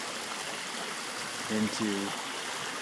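Water flowing steadily over a remodeled pond waterfall in Kihei, Hawaii, a constant close splashing rush, with a brief spoken word partway through.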